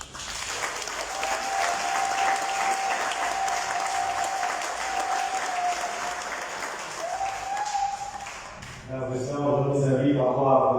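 Dense, sustained applause from a church congregation at a jubilee mass, a loud, even wash of many hands with a faint steady tone beneath, giving way to music near the end.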